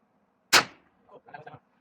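A single sharp firearm shot cracks at a shooting range, followed by a faint quick scatter of small clicks and handling noises.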